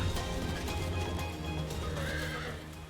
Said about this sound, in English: Ah, my horse!